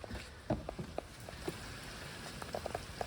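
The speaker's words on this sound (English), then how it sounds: "it's raining" Rain falling outside during a flood and fog light install on a Honda, a faint, steady patter with scattered individual drops tapping on a surface, no voices.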